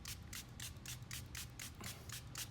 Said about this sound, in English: Let's go ahead and liberally apply the spray here. Wet this surface.